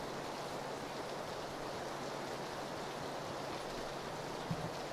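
Steady rain in the PUBG video game, a constant faint hiss of falling water with no other distinct sounds.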